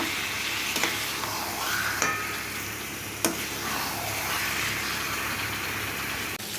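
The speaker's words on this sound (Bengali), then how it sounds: "এখানে চিংড়ি মাছ ভাজা হচ্ছে।" Prawns fry in a pan with a constant, moderately loud hiss of oil, punctuated by a few sharp clicks and taps from utensils.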